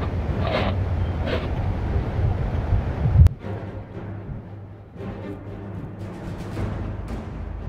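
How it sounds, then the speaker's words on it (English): Wind gusting through a wintry Skyrim outdoor scene, a steady rushing whoosh with a sharp thud near the middle, then a calmer, lower blowing. "Must just be the wind."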